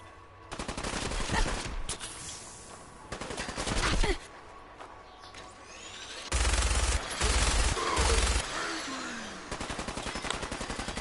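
Minigun fire in Fallout 76 rattles out in several long, rapid sustained bursts separated by short pauses, loud and close, with a tail of fast continuous shots at the end.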